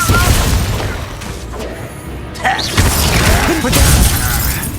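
Confringo blasting spells burst in Hogwarts Legacy during Percival Rackham's Trial, loud booming explosions with crashing, shattering debris, a brief lull in the middle, then more blasts.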